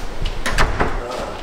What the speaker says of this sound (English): Security door. Security door.